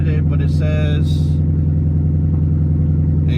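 At an auction, a car with its exhaust cut and mufflers apparently removed idles with a loud, steady, deep drone, and a person talks briefly over the first second.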